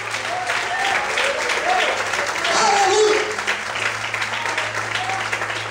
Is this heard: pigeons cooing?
no